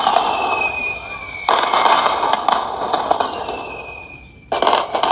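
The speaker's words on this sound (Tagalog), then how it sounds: "Fireworks." A CapCut fireworks sound effect: loud crackling bursts with whistling streaks run continuously, fade into a brief lull, then erupt again in a fresh burst near the end.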